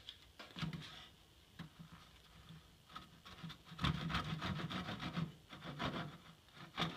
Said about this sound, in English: I'm going to make 10 strokes in this fresh 2x4